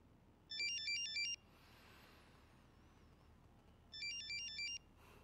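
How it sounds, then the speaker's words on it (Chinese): A phone rings unanswered in an indoor drama scene, its electronic ringtone sounding in two short bursts separated by a quiet pause. "怎么不接他电话？"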